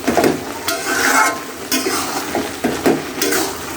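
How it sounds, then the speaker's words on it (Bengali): Fried chepa shutki, a dried fish, stirred into a sizzling curry in a pan, with repeated scraping strokes of a spatula over steady frying hiss, close and fairly loud. "আমি মাছটাকে এখন এর মধ্যে দিব, দিয়ে সুন্দর মতো আবারও কষিয়ে নেব"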